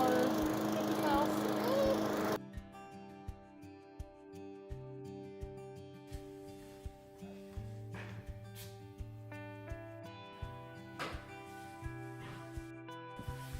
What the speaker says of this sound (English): I'm mowing my yard at this house.